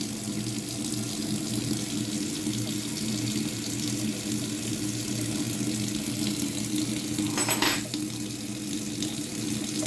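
Steady jet of tap water streaming through a Clage aerator from an instantaneous electronic water heater tap, a continuous soft rushing wash with one brief louder surge near the end, no talking.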